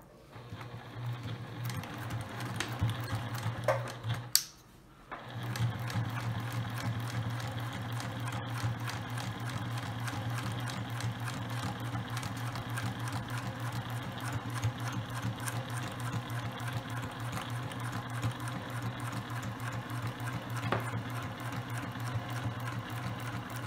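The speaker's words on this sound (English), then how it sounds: "Now I'm going to sew" Sewing machine stitching a clear vinyl drawstring bag, with a steady, close mechanical whir and rapid needle rattle running continuously, except for one brief stop near the start.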